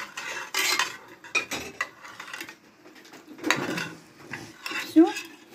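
Meat stirred in a cooking pan, with repeated scraping and clinking of a utensil against the pan in irregular bursts, fairly close, with brief voices now and then.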